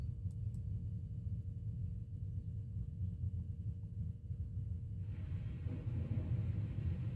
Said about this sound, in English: There was quite a significant thunderstorm coming in.